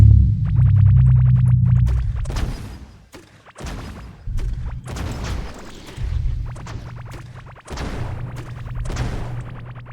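Repeated booming explosions from the video game Core Keeper, a series of heavy thuds and blasts rolling one after another with deep low rumble, loud and close, no talking.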